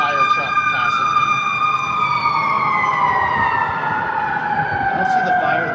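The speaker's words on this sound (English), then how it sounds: "You might be hearing a siren here. There's a fire truck passing me." A passing fire truck's siren wails steadily and loudly, its long tone sliding slowly downward as it goes by, with some background noise underneath.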